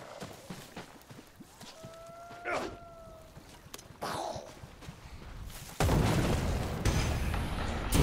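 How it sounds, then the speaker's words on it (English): Explosions in the video game Dead Island 2 build to a loud, rumbling roar that swells and holds over the final seconds, after quieter scattered thuds. "I thought that was a lot of explosions"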